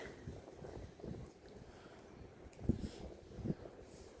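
Steady outdoor wind rushes and buffets a microphone, with low rumbling gusts and a couple of sharper thumps near the end.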